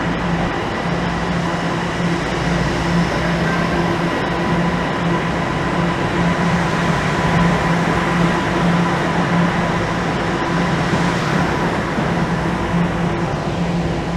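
A subway train rumbles steadily into a Toronto station, a continuous loud roar of wheels and motors with a faint high squeal over it.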